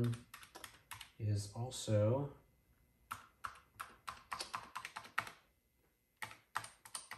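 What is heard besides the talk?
typing on Texas Instruments TI-99/4A Mitsumi keyboard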